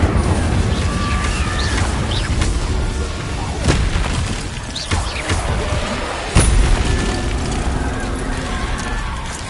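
Fire spell Incendio cast in a Hogwarts video game: a dense stretch of magical whooshes, crackles and sharp booming impacts, with a few heavy thumps standing out from the steady, busy game-effect noise.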